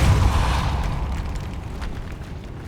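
Incendio and Depulso spells cast in the Hogwarts Legacy video game, a loud, close whooshing blast that starts at full strength and slowly fades into a rumbling tail.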